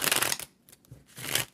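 Two bursts of crisp riffling tarot card shuffles, one at the start and another near the end, with a quiet gap between; close and moderately loud.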